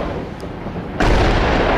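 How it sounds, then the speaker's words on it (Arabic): Heavy shelling in Houla, Homs, a sudden loud low boom about a second in from an artillery explosion, followed by a sustained rumbling roar after a quieter murmuring background. "قصف عنيف استهدف منطقة الحولي."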